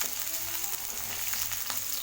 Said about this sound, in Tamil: அதை இதில் ஆட் பண்ணிக்கலாம். வெங்காயம் லேசாக வதங்கட்டுங்க.